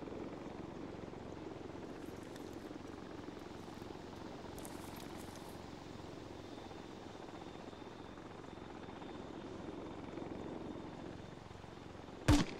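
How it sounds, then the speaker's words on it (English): Helicopter in a video game military base spooling up: a steady low rotor and engine drone holds throughout at moderate level, with a faint high whine, ending in a brief sharp impact. "Is that chopper in the base spooling up?"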